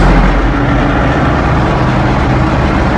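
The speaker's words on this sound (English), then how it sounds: "Rev up the RPMs" LS MS225S tractor engine revving up, a steady loud low diesel drone held at high RPM without pause, no talking.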